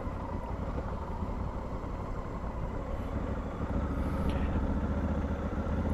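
A Honda Africa Twin motorcycle rides a gravel road with a steady, continuous engine drone and tire rumble throughout, growing slightly louder near the end, with no voices.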